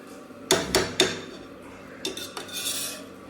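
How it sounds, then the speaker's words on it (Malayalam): Noodles scraped and tipped into a white bowl with a utensil, giving a few sharp clinks of metal on dish in quick succession followed by softer scraping, close and alone. "നമ്മൾ ഈ പാത്രമാണ് എടുത്തിട്ടുള്ളത്, ഒരു വൈറ്റ് പാത്രം. ഇതിലോട്ട് മാറ്റാം."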